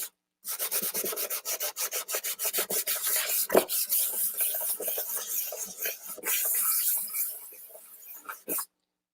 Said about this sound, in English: I've got my drill press here kind of holding down the sandpaper for me.